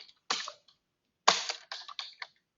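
Keystrokes on a computer keyboard while entering alt text in Microsoft Word, in two short bursts of quick, close taps separated by a pause, heard on their own in a quiet room.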